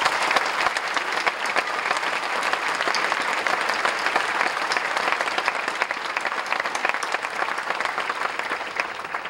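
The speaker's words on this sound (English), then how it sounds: "So let's thank them with a round of applause." Steady applause from a large crowd at a high school graduation in Harwich, Massachusetts, dense and sustained clapping that carries on at an even level throughout.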